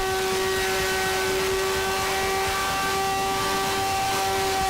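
X-Turismo hoverbike with a conventional engine and battery-powered motors, hovering at a demonstration on a Tokyo racetrack: a loud, steady mechanical drone with sustained tonal whine, unbroken and without speech throughout.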